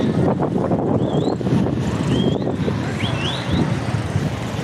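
Street traffic of many cars in Nairobi heard as a steady outdoor roar with passing vehicle noise and wind buffeting the microphone, continuous and fairly loud throughout.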